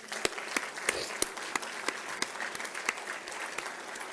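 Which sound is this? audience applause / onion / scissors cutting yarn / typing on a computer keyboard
audience applause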